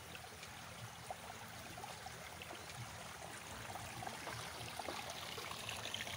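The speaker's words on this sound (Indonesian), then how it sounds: "serta gemericik air irigasi yang mengaliri sawah" Irrigation water trickles and gurgles steadily as it flows into green, ripening rice paddies, a soft continuous wash of running water with no voices.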